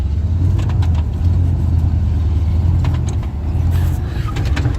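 A Ford F150 pickup's engine runs steadily in low range, third to fourth gear on a five-speed, a continuous loud low rumble with slight rises in revs and faint rattles on top, no talk.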